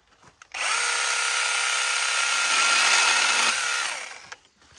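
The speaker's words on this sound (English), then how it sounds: "We're going to do some just little trimming of little branches." A Makita DUC101 cordless pruning saw cuts through small dead branches with a loud, steady, high-pitched chain whine that lasts about three seconds and then spins down. Faint clicks come just before and after the cut.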